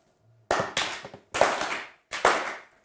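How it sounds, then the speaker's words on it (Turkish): Three short bursts of applause from a game show studio audience, each a brief rattle of clapping hands that swells and fades quickly, separated by silences. "Yani üzgün alkış gibi üzgün alkış yedik ha şu an."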